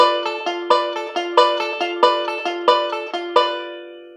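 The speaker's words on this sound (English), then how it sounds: "I'm going to pull off my ring finger on the 2nd string" A guitar lick played with a ring-finger pull-off on the second string, made of a quick run of bright, ringing plucked notes in an even rhythm, close and clear, with the last notes left to decay.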